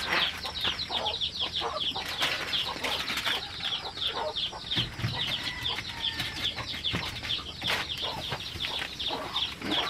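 Laying hens clucking in a farmyard, a busy overlapping chorus of short, rapid clucks and squawks. The calls run continuously at moderate loudness, with occasional flapping and no clear talk.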